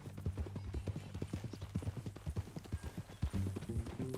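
Steady clip-clop of a horse's hooves at a walk in Red Dead Redemption 2, close and rhythmic, with a low tonal hum of game music or ambience underneath.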